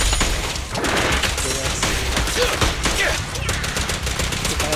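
Rapid gunfire in the video game Zenless Zone Zero, a dense run of loud shots and bursts with booming impacts, close and continuous, with a player's voice faintly mixed in.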